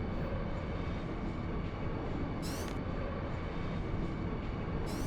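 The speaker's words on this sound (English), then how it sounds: "So now we are on the train to Timber." Steady, loud rumbling of a train ride in the video game Final Fantasy VIII, a dense continuous rail drone with faint periodic clicks, carrying on alone without speech for about five seconds.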